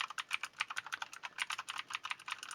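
Fast, even keystrokes patter on a T-Dagger Bermuda T-TGK312-BL mechanical gaming keyboard fitted with homemade rubber feet, a quick run of close, fairly soft clicks with no talking.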